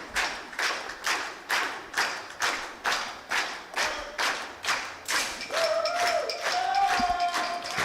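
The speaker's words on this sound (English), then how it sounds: "the crowd are just ramping it back up again" Crowd at a men's 10m air pistol gold medal final, rhythmic synchronized clapping in steady beats, then a swell of louder cheering with whistles.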